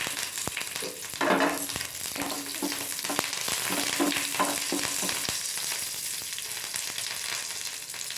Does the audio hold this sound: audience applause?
no